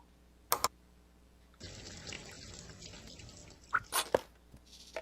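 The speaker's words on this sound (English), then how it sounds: "Let's see what happens if we put the water in the pot." Water is poured into a pot in the point-and-click adventure game Deponia, a steady splashing pour of a couple of seconds, framed by a few short clicks and clunks, fairly quiet, with no talking.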